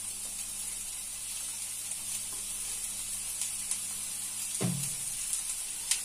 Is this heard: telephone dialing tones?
no